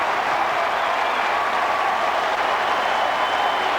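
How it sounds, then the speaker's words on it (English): Mets fans in the crowd at Yankee Stadium during a 2002 baseball game cheer and applaud in a dense, steady roar that fills the whole brief stretch. "And the Met fans get a chance to cheer here in the first inning."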